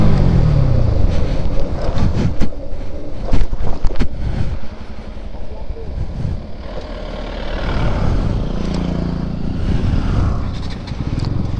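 A Bajaj Pulsar NS200 motorcycle revving up for a wheelie, loud engine roar that rises and then eases off, heavily buffeted by wind noise on the microphone.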